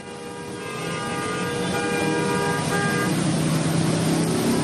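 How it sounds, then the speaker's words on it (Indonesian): Long traffic jam on a flood-hit road in Jakarta, with a steady roar of idling and creeping cars and several sustained car horn toots overlapping across the stretch, loud and continuous. "Kemacetan panjang kendaraan terlihat dari arah UKI menuju Kebon Nanas."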